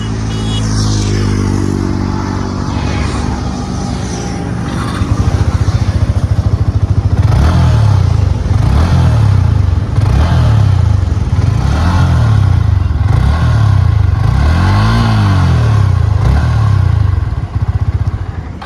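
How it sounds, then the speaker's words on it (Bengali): A motorcycle engine, running without any engine problem, rumbles loudly up close, its deep throb swelling and easing in repeated rev-like pulses, with clattering mechanical noise on top and no talk. "বাইকটার আওয়াজটা শোনো এখন ইঞ্জিনের প্রবলেম নেই"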